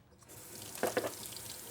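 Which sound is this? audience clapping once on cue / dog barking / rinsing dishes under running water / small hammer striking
rinsing dishes under running water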